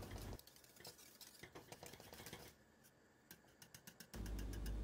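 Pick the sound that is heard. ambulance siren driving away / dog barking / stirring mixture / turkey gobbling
stirring mixture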